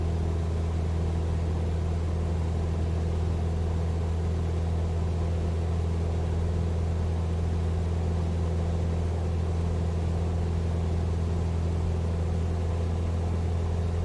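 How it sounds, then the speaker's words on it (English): A steady, droning piston propeller engine in a flight simulator game hums continuously at an even pitch, with a constant low rumble and no voices or changes throughout. "as I start pulling it back, listen, you can already hear the engine picking up"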